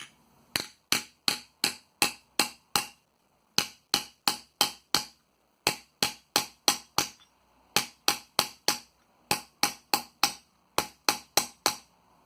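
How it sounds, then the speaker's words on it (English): Sharp metallic hammer blows on a metal bowl being formed, struck in concentric circles, ring out in quick bursts of five or six strikes, each followed by a brief pause, close and loud with no talking. "I'm just starting to hammer out, following the concentric circle"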